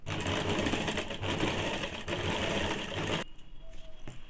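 A sewing machine runs steadily for about three seconds, a quiet, fast, even whir while stitching a two-piece Bombay-cut blouse, then stops abruptly, leaving faint room noise.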